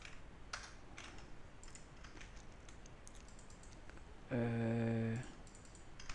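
Code is typed on a computer keyboard: faint, scattered keystrokes sound close but quiet over a low hiss, then a steady electronic tone plays briefly near the end.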